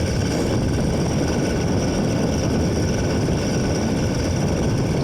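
A small motorized bicycle engine runs on a winter cross-country ride, making a steady, close, buzzing drone without pause.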